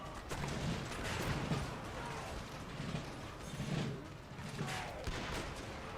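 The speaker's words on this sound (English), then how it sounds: "which I'm hoping to break with this gunfire right here" Rapid, overlapping crackles of distant musket volley fire in a video game roll in irregular bursts, with a low battle rumble underneath and no talking.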